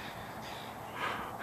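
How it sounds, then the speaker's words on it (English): Crows cawing at a distance, a dense wash of harsh calls from a flock that swells slightly near the end. "all the crows in town, or at least a goodly amount of them, have decided to gather"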